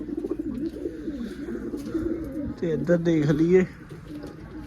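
Pigeons cooing close by in low, throaty murmurs, with someone talking over them partway through.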